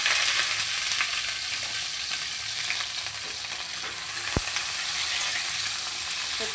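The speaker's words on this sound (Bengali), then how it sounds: "এবার আমি কেটে রাখা সবজিগুলো দিয়ে দিলাম।" Chopped vegetables fry in hot oil with five-spice, giving a steady close hiss and sizzle with a few faint stirring scrapes and one brief sharp click.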